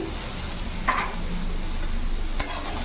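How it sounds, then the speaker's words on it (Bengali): Eggplant pieces seasoned with salt and a little turmeric sizzle steadily in a pan over a full gas flame, with soft scraping stirs and a couple of sharper clicks against the pan. "নাড়াচাড়া করে এবার বেগুনটাকে ভালো করে লাল করে ভেজে তুলে নেব"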